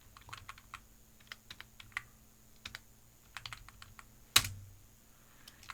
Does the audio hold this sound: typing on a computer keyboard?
yes